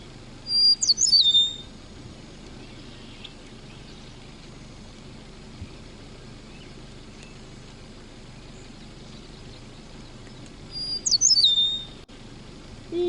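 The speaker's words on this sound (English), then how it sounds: "as compared to a eastern meadowlark that sounds like this" Two short, bright eastern meadowlark songs ring out about ten seconds apart, each a quick descending whistled phrase over a quiet background.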